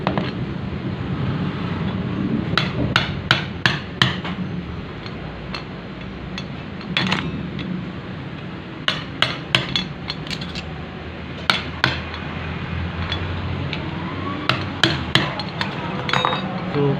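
Sharp metallic hammer blows striking a flat screwdriver to break apart a rubber bushing, coming in quick bursts of three or four ringing hits separated by pauses, over a steady background hum.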